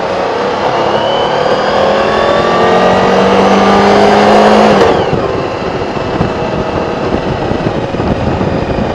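A scooter engine on gravel revs hard in first gear, a loud, steady rising drone that climbs for several seconds, then drops off sharply as the throttle closes, with rough engine noise continuing.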